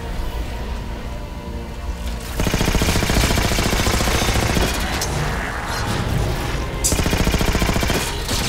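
Automatic gunfire from a suppressed gun in the game Halo 4, loud rapid bursts of shots repeating in close succession with brief pauses between volleys.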